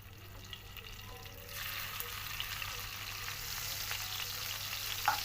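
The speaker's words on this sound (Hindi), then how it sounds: "अब घी हमने गरम कर लिया। अब इसके अंदर हम प्याज ऐड कर देंगे।" Onions dropped into hot ghee for a spicy tempering, a steady close sizzle that swells after a quieter start and keeps hissing evenly throughout.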